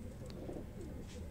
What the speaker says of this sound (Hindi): ये सातवां कबूतर है दोस्तों, मोतियों वाला कबूतर है